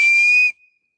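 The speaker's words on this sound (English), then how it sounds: "but you could also do a high-pitched sound" A high-pitched hand whistle, made by blowing through cupped hands, gives one steady, loud pure tone for about half a second and then cuts off abruptly, followed by a faint trailing breath.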